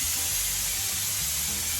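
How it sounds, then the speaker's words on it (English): A SATA HVLP paint spray gun sprays top coat at about 40 psi in a makeshift spray booth during a Peugeot J9 van restoration, giving a steady, close, loud airy hiss with no voices. "This is the SATA gun, which it's a HVLP gun, and it does spray nice."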